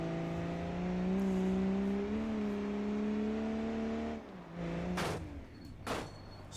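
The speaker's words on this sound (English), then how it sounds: "We have just now ripped the exhaust and the spoiler off. So the car gets a little louder." A car with its exhaust ripped off, in the BeamNG driving game, droning loudly with a steady, slightly rising engine note, then easing off, with a couple of short whooshing bursts toward the end.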